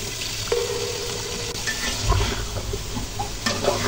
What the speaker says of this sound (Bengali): ঢেঁড়সগুলো এইভাবে নেড়ে চেড়ে দেবো মশলার সাথে, মশলাগুলো যেন ঢেঁড়সের সাথে লেগে থাকে।